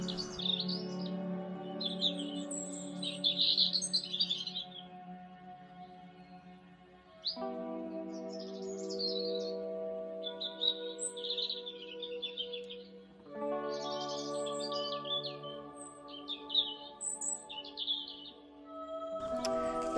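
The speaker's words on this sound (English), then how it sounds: "The swallows are here, so I'm going to try and get some swallow footage." Swallows chirping and twittering in a garden field at golden hour, bright overlapping calls in repeated bursts over a steady hum, moderately near and continuous, no voices.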